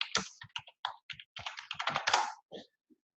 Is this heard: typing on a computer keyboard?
yes